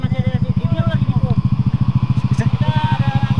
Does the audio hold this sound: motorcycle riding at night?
yes